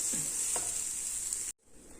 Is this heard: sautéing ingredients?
yes